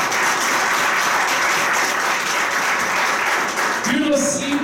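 Audience applause at a conference in a hall, a steady dense clapping that carries on for several seconds, with a brief voice at the end.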